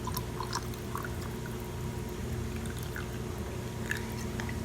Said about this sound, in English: I'm just going to kind of fill up the jar to about right here with some red wine vinegar